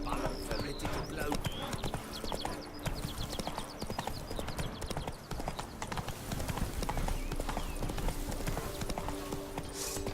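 Roach, the horse in the video game The Witcher 3, gallops in rapid, loud clip-clop hoofbeats that continue throughout, with game voices and clanking sounds mixed in.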